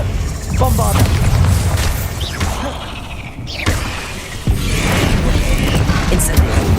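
A Bombarda blasting-spell explosion in Hogwarts Legacy bursts out with a heavy boom amid rumbling, clanking game ambience, followed by a sustained roar, with a voice talking over the action.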